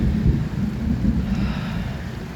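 Steady heavy rainfall over a waterlogged garden in Saudi Arabia, a continuous low rumbling wash with a bit of wind buffeting, no talking.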